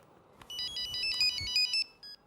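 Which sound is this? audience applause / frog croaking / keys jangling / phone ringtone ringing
phone ringtone ringing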